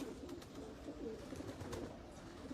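Racing pigeons coo softly in a pigeon loft, low murmuring calls repeating under a faint background hum, with no talking.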